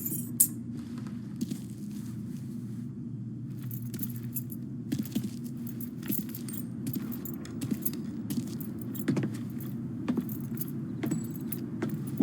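Car keys jangling in a Mafia 3 game scene, light metallic clinks and rattles recurring irregularly over a steady low vehicle hum, close and continuous with no talk.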